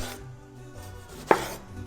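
A single sharp knife cut slices a tomato on a cutting board, one crisp thunk over faint background hum.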